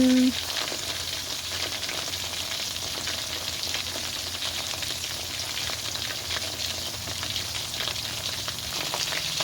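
Chicken frying in hot oil sizzles loudly and continuously, a dense crackling hiss that stays steady from start to finish.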